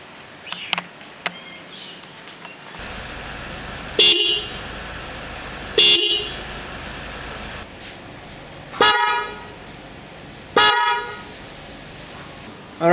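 A new Bosch EC6 horn fitted to a Proton Inspira, also known as the Lancer 08, blasts four times in loud, bright honks spaced a couple of seconds apart, following a few short clicks.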